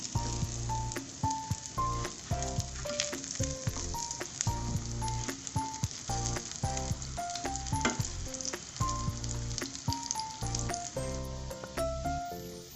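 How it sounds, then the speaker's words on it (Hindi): Black chickpea kababs fry in a pan with a steady crackling sizzle, while bright plinking music plays continuously over the top. "कबाब फ्राई हो चुके हैं, इन्हें निकाल लेंगे"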